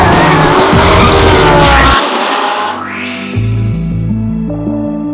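Tires of a Porsche 918 Spyder squeal and skid loudly as the rear end slides out, mixed with a roaring engine that drops away and then climbs through gear changes.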